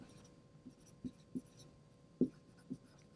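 Marker or chalk writing on a board during a lecture on the urinary system, a series of faint, sparse taps and strokes spaced irregularly against quiet room tone.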